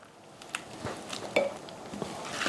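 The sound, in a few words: stirring fresh peach salsa in a bowl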